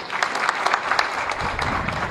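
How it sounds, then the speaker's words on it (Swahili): A large audience claps steadily at an official gathering in Kigoma, Tanzania, where a regional commissioner takes office. The dense, even applause continues without a break. "tupigie makofi"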